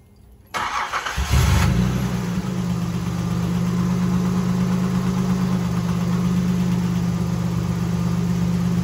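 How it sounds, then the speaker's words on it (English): A Nissan 300ZX Z31 engine cranks and catches after an oil change, then settles into a steady, close idle hum that continues unbroken. "Sounds like the engine is in shape."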